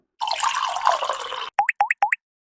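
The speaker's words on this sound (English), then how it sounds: "we're going to add roughly 1 ounce of lime juice. Fresh squeezed lime juice this time" About an ounce of fresh-squeezed lime juice is poured into a margarita: a brief splashing pour lasting just over a second, followed by three or four distinct, crisp drips, close and alone.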